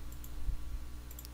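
Computer mouse clicks during a table-design lesson, a few short, quiet taps spaced irregularly over a low steady background hum.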